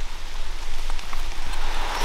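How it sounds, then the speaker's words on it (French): Light rain keeps falling after a downpour, a steady soft patter and hiss of drops on surfaces, fairly close, with no voices. "Après cette averse, il pleut toujours"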